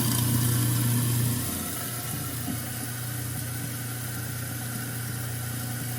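An InSinkErator 3/4 HP garbage disposal runs empty with tap water flowing, giving a steady low motor hum under a constant wash of running water. A deeper tone at the start drops away after about a second.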